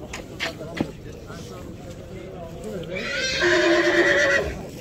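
At a busy horse market a horse gives a loud, drawn-out neigh near the end, heard close over crowd chatter and several people talking, with a few knocks and hoof sounds earlier.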